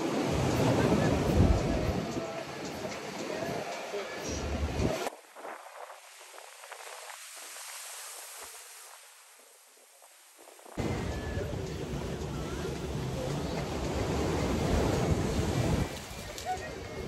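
Sea waves wash onto a beach in Dahab, a loud, rushing surf that swells, fades into a quieter stretch, then roars back in. Wind buffets the microphone throughout.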